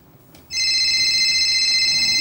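A mobile phone left behind at home rings with a steady, loud electronic tone that starts abruptly after a brief quiet moment and continues unbroken, with no talking over it.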